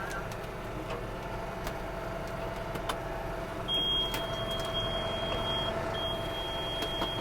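A tractor engine idles in a steady low rumble during hay baling work as a hay wagon is dropped off, with faint ticking and a thin high electronic beep tone starting partway through.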